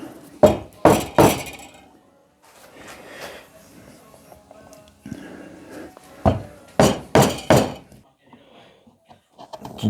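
A chisel is struck into wood to mark an imprint in a workshop, giving several sharp, loud hammer-like taps in quick clusters, separated by quieter scraping and handling noises.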